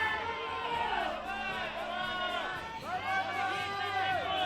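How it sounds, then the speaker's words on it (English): Spectators below an ice climbing route at a European Championships lead final in Champagny-en-Vanoise, shouting encouragement in rising, overlapping cries that swell again near the end as a climber pushes through the final seconds. "Big cries from the crowd below as she uses the final seconds just to try and get as high as she can on the route"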